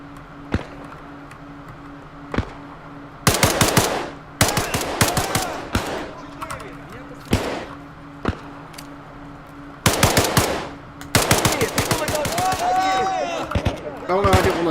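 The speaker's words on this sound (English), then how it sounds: "Let's just try the pistol a minute." Pistol gunfire in the ARMA Reforger video game, sharp shots in short bursts separated by pauses, with quieter background game sounds between.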